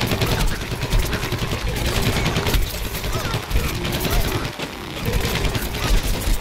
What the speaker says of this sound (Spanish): Ametralladora. Guisa ametralladora.